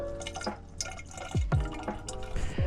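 Glacier water drips slowly from a gravity water filtration device, with several distinct close drops falling at an irregular pace over a faint background.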